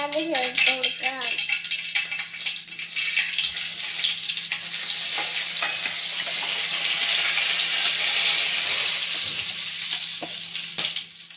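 Dried red chillies drop into hot oil with a loud, continuous sizzle that swells and holds for several seconds, a tempering for kuzhakkatta, with some clatter and a brief voice at the start.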